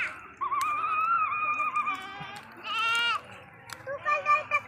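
Goats bleat in a rural village, several loud, wavering cries close by, one after another, over faint background noise.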